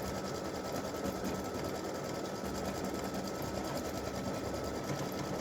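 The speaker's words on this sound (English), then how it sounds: "it does the underlay, and then it'll come back and finish doing the fill stitch" An embroidery machine runs a fill stitch after its underlay, producing a continuous dense buzzing rattle of rapid needle strokes, steady and unbroken throughout at moderate loudness.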